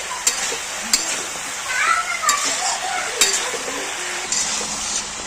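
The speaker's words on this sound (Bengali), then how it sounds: "ভালো করে নেড়ে ছেড়ে মিশিয়ে দেবো হলুদটা।" Turmeric being stirred into shish palong (spinach stems) in a pan for chorchori: a soft, steady sizzle with sharp spatula knocks and scrapes at irregular intervals.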